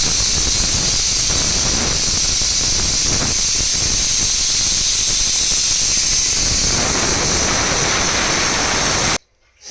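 A pressure cooker hisses loudly and steadily as it vents steam after its whistles, a close, continuous rushing spray that cuts off abruptly near the end.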